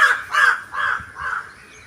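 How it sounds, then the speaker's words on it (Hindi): A crow caws on a rooftop, four harsh calls in a slowing sequence that fade slightly, with quiet outdoor ambience behind and no talking. "बहुत सारे पक्षी भी बोलते हैं मेरे यहाँ"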